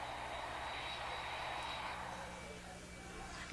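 A passenger airplane in flight gives a steady, broad engine roar, faint and distant in tone, holding evenly with a slight dip near the end.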